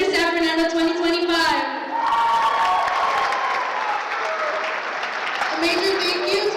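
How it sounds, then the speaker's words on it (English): Audience applause and cheering fill a prom pageant hall, loud and sustained, with harmonic cheers and music-like tones riding over the clapping at the start and end. "Let's hear another round of applause for Mr."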